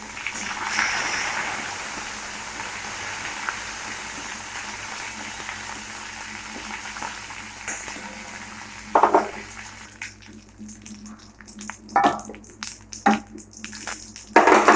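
Curry leaves, green chilies and dried red chilies fry in hot oil, a steady close sizzle filling the first stretch before it thins out, followed by a few sharp clinks and scrapes of utensils near the end.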